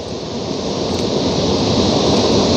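A waterfall roars steadily from a boat drawing closer, a continuous broad wash of rushing water that builds slightly in loudness, with no talking.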